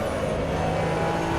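Race car engine in the Assetto Corsa Evo racing game: a continuous, loud engine drone at fairly steady pitch with no distinct braking sound, no voices.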